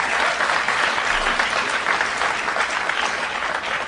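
Audience applause following the introduction of Senator Tom Harkin at a foreign policy forum, a steady, full wash of clapping from a sizable crowd that holds at an even level for the whole stretch without any voices.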